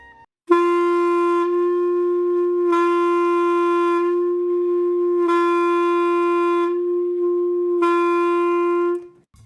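A jazz clarinet plays one sustained note as soft ghost notes, repeated four times with slow, gently tongued onsets and breathy airy edges, steady and close.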